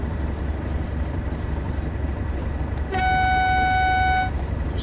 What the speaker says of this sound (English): Sound the horn just to warn them.